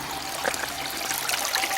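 Water trickles and splashes at Bennybeg Plant Centre in Crieff, a continuous bubbling babble with small bright droplets, close and steady.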